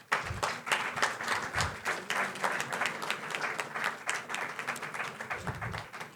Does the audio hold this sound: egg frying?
no